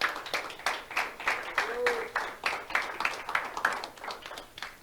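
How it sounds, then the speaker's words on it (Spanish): A church congregation at a Spanish-language sermon claps in unison, a rhythmic series of sharp, evenly spaced group claps of moderate loudness, with a faint voice briefly heard midway. "¿No cree que se merece un aplauso el Señor,"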